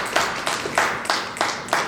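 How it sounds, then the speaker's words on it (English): Slow, steady clapping, about six evenly spaced claps, fairly close and without voices. "Give a round of applause."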